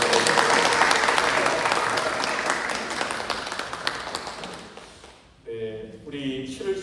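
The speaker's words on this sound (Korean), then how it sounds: "우리 일어나며 우리 함께 박수로 환영하겠습니다" A church congregation at a Sunday worship service in Dallas stands and claps to welcome a visitor. The applause is steady and full for about five seconds, fades gradually, then gives way to a voice speaking.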